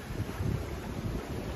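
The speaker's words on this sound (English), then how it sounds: "the wind is up, which is lovely" Steady wind buffets a sailboat running downwind at sea at dawn on a solo passage from Ireland to Madeira, blowing around 10 knots, a continuous low rumbling roar with gusty fluctuations close to the microphone and no voices.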